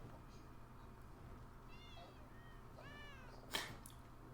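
Cats meow in Elder Scrolls Online, two or three short mewing calls over a soft steady ambient bed, followed by a brief sharp knock.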